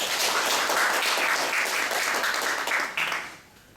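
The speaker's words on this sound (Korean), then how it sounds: "여러분들의 힘찬 응원과 격려의 박수를 부탁드리면서" Loud, sustained audience applause fills a hall during an officers' election debate for committee chair candidates, steady for about three seconds before tapering off.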